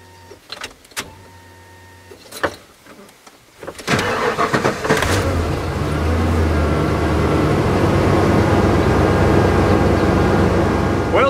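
A car engine cranks and catches after its fuel tank and fuel pump were replaced. A few clicks and handling noises come first, then the engine bursts to life and settles into a steady, close, loud running drone.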